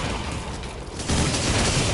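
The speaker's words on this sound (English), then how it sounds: "Glorious explosions everywhere." Explosions in the video game Broforce 2, a dense continuous roar of blasts and booms that swells louder partway through, filling the whole range with no talk.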